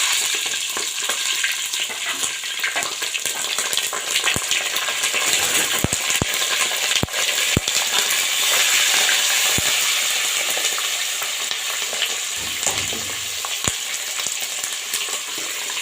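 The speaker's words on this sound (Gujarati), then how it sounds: "અને હવે એમાં મરચાં તળવાના છે।" Green chillies fry in hot oil with mustard seeds, cumin and curry leaves, giving a steady, close, loud sizzle and crackle throughout, with scattered sharp pops and light stirring clinks of a utensil.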